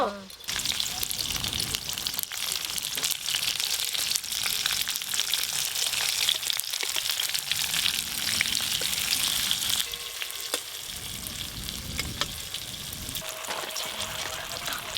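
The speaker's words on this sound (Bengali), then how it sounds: "সিমগুলো কিন্তু খুব ভালো করে ভাজা ভাজা হয়ে গেছে" Stuffed flat beans frying in hot oil in a pan, a steady, dense sizzle that runs close and even throughout with a few faint clicks of handling.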